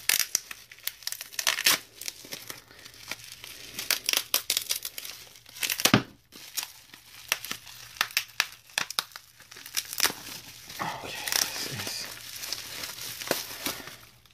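Plastic wrapping around a boxed Gilbert & Son London sundial compass crinkles and tears as it is opened by hand, a close, busy run of sharp crackles with brief pauses, no talking.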